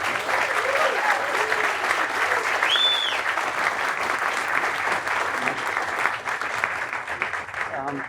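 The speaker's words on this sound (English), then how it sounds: "So give yourselves a round of applause" Conference audience applauding at a panel session in Boulder, Colorado: sustained, dense clapping from a large crowd fills the whole stretch, fairly even in level, with a few scattered voices and a brief whistle mixed in.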